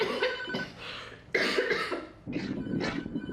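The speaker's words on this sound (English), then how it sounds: "Holly's cough is further evidence that the T cells are winning." A person with influenza coughs repeatedly, several harsh, chesty bursts in separate clusters, close and fairly loud, with no speech.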